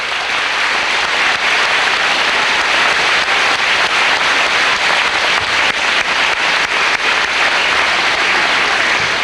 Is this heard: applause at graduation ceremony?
yes